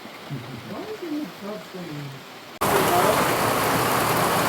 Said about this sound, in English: the downpour is torrential.